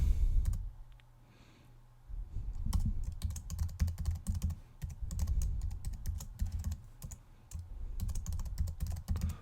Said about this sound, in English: I'll type a new password in here.